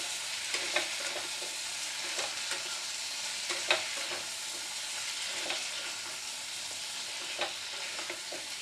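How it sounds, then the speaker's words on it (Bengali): Fish heads fry in spice paste while being stirred for a fish head and potato curry, a steady close sizzle punctuated by periodic soft scraping clicks of the spatula. "এবার মাছের মাথাগুলো দিয়ে দেব। ভালো করে কষিয়ে নেব মশলার সঙ্গে।"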